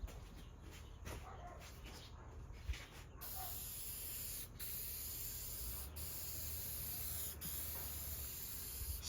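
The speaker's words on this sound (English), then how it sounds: "I'm going to spray on a coat." An aerosol can sprays Zinsser Bullseye shellac onto ceiling fan blades in a loud, close, continuous hiss broken by short pauses between passes.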